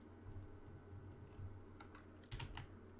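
Brief bursts of computer keyboard typing, a few quick clustered keystrokes over a low steady hum, faint and close.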